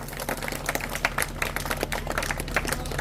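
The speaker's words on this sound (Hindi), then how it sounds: "क्लैपिंग चलती रहे।" A crowd claps at a village felicitation event for a former SDM in Khatodra, Mahendergarh, with many hands making a quick, steady patter of claps, moderately loud over a low background hum.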